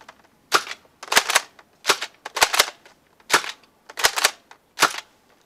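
A Buzz Bee Walking Dead M16 toy blaster fires foam darts in about a dozen sharp, snappy pops, some in quick pairs, loud and close with brief pauses between shots.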